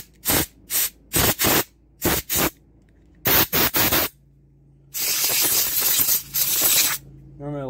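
Compressed air from an air compressor blasts through the holes of a Honda push mower carburetor in loud, sharp hissing bursts, first several short quick puffs, then a longer sustained blast.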